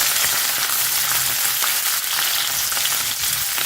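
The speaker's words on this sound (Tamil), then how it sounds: "சின்ன வெங்காயமும் வெள்ளை வெங்காயமும் போட்டு பாருங்க வதங்கட்டும்" Red chillies, tamarind and onions frying in a pan for a guava chutney, giving a loud, continuous sizzle close to the listener throughout.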